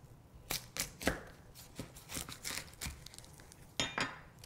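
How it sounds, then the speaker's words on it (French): A knife cuts an onion in half on a board, giving a few faint, sharp cutting taps and scrapes spread irregularly over a few seconds, close but quiet. "Pour l'oignon, je le coupe en deux."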